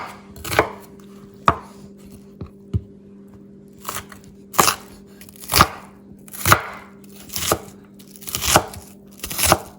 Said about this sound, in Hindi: इनको बिल्कुल बारीक बारीक आपने चॉप कर लेना है।